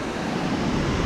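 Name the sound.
small waterfall rushing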